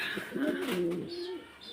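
Two male pigeons coo close by, a soft rolling throaty call rising and falling in one drawn-out phrase, with faint background noise.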